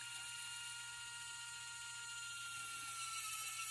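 A small power drill runs steadily for several seconds at close range, a continuous whirring whine with a constant high buzz and no pauses, used to bore a hole into the bottom of a kit part for painting.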